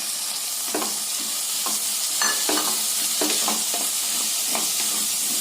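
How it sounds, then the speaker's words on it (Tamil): Onions and chopped native tomatoes sautéing for a tuna fish curry, giving a steady close sizzle with repeated spoon scrapes and stirring strokes throughout, no talk. "சேர்த்துட்டு நல்லா வதக்கி விடலாங்க."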